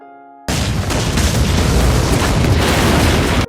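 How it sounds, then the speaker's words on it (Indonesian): A bomb detonates powerfully in a samurai film, a sudden loud broadband blast that roars on continuously for about three seconds after a quiet start. "Prajurit bayangan itu pun langsung meledakkan dirinya dengan bom yang meledak dengan kuat."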